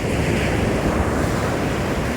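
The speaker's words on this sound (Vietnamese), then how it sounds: "bây giờ mình đã tới được bờ biển Đại Tây Dương đây" Atlantic Ocean surf rolling onto the coast in winter, a loud continuous roar of breaking waves mixed with heavy wind buffeting the microphone, with no voices.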